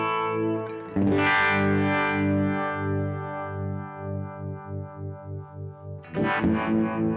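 Electric guitar chords played through a Keeley Supermod Workstation pedal set to harmonic tremolo and reverb, sustained tones pulsing in a steady wobbling rhythm, loud and close, with a fresh strum near the end.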